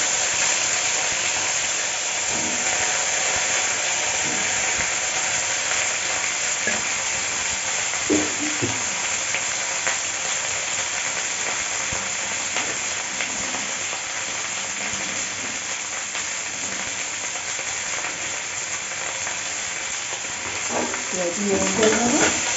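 Mixed vegetables with ivy gourd shoots fry in hot oil in a pan, giving a steady, close, continuous sizzle and crackle with a few soft stirring knocks.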